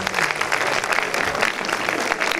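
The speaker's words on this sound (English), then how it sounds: "So give yourselves a big round of applause" Audience at the first screening of the film Blaming George Romero applauds, a dense, steady wash of many hands clapping at close range throughout, with faint voices mixed in.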